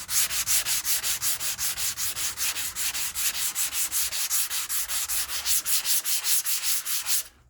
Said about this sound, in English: Now we're just sanding the rest of the filler off. Just using some 120 or 150 grit paper.